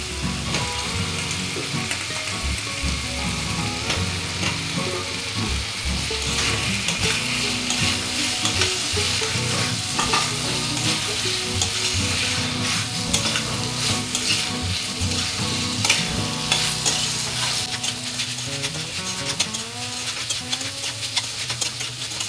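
Potatoes sautéing with a cooked spice masala in a pan for an oyster mushroom dish, with a steady sizzle and repeated scraping stirs running throughout, fairly close and even in level.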